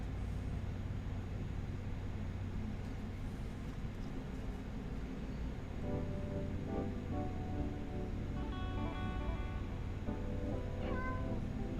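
A house cat meows several times in short, rising calls partway through, heard over a steady low background hum and rumble indoors.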